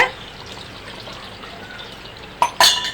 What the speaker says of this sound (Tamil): இப்போது நான் 1 டம்ளர் தண்ணி நான் ஆட் பண்ணிக்கிறேங்க.